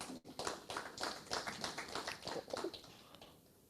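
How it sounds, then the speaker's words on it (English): A small audience at an oil and gas industry panel session claps for a few seconds, quiet and somewhat distant, the scattered hand claps thinning out toward the end. "Another round of applause, please."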